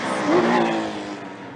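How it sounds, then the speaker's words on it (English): GT3 and GT4 racing cars at the Colombo Night Race 2011 street circuit, a powerful engine roaring loudly and steadily with a rising then falling pitch as the car passes close by, with speech faintly underneath. "So these are cars that are extremely powerful, extremely fast, and thoroughbred racing cars."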